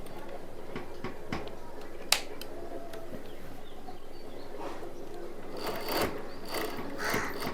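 A home sewing machine stitching a kurta runs in short bursts, quiet and close, with light mechanical clicks and a sharp tap partway through, no talk.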